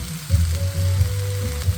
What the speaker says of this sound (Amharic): እዚህ ጋር ጎመኔን እንግዲህ እየጠበስኩኝ ነው።